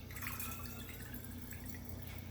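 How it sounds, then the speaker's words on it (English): Homemade fire cider, an herbal vinegar infusion, poured into a bottle: a steady, faint liquid trickle with light dripping and splashing, continuous throughout and without speech. "So we're just going to pour this in here."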